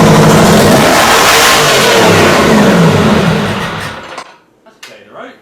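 A Detroit diesel engine in a Wagner W4 loader revs hard and loud, a dense roaring drone for about four seconds before cutting off abruptly, leaving brief faint clanks in near silence.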